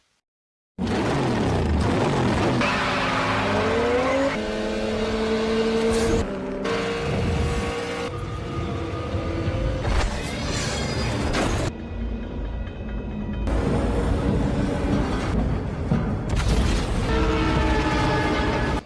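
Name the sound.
cars racing across railway tracks in a movie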